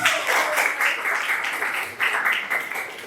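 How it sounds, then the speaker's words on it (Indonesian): Students in a classroom clap together in a steady, fairly loud round of applause that lasts about three seconds with no pauses. "Tepuk tangan dong."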